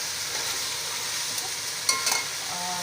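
Beef and onions frying in a pot for Punjabi yakhni pulao, a steady close sizzle with brief stirring scrapes and clinks near the end.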